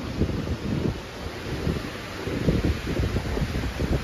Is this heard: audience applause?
no